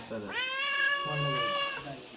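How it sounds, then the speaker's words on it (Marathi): A cat meows outdoors on a rainy day, one long, drawn-out, clear meow that rises and then holds steady, heard fairly close. "एक मांजर मला वाटतं बाहेर होतं तिकडं आवाजच होता."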